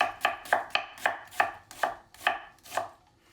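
Vegetables are julienned with a knife for a surf and turf quesadilla: eight or nine steady, rhythmic chops strike a board up close, crisp and alone without voices.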